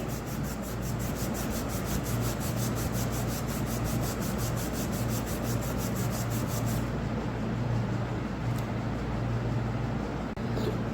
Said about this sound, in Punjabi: ਕੈਂਚੀਆਂ ਨੂੰ ਆਪਾਂ ਜਦੋਂ ਰਗੜ ਕੇ ਸਾਫ਼ ਕੀਤਾ